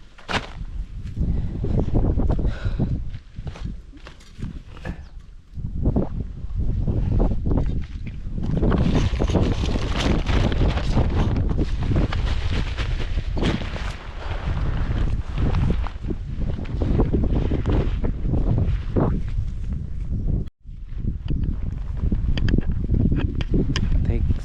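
Strong wind gusts buffet a camping tent at a campsite, a loud, continuous roar with flapping fabric and a sudden brief lull, while someone talks throughout.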